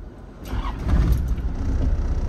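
A vehicle engine catching almost instantly on the first turn, a low rumble that swells and then settles into a steady running hum, close by.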